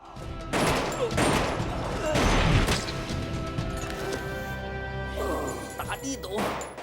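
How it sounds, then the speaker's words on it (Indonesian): A chaotic burst of gunfire from a Hong Kong mafia film shootout in a restaurant, with sharp cracks, crashes and impacts layered over a dense, continuous soundtrack of music and effects. "Semua orang bersenjata di restoran saling melepaskan tembakan."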